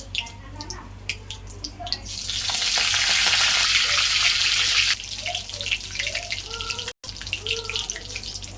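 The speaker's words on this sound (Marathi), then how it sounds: "फोडणीची तयारी करूया" Spices sizzling in hot oil for tempering, part of a green pea (matar) masala: a loud, steady hiss rises sharply after two seconds, holds for about three seconds, then drops to a quieter crackle with light clatter.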